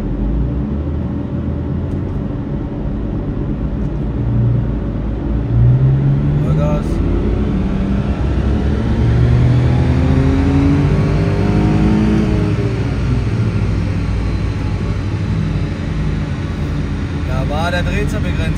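BMW engine from an E39 M5, E90 or E46 with GM automatic gearbox, revving in fourth gear on a dyno up to the rev limiter, a sustained loud rising drone with speech over it.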